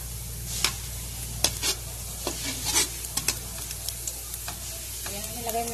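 Garlic frying in oil until golden brown for a bitter gourd, chicken and sotanghon dish, a constant close sizzle broken by repeated scraping taps of stirring.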